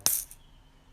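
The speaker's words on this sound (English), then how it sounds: "we can tap our shaker egg." A single sharp tap on a shaker egg gives a brief bright rattle that quickly fades, close and alone.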